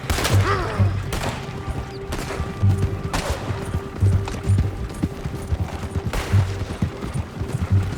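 Sharp gunshots ring out in a Red Dead Redemption 2 shootout, a handful of loud, separate cracks spaced a second or more apart over a busy game-world background with a steady low hum.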